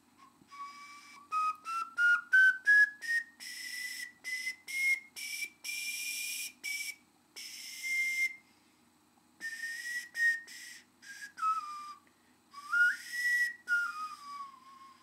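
A cracked ceramic pendant ocarina plays a slow run of separate notes with an airy, breathy tone. The phrases rise, pause and then bend downward. It is heard close and alone.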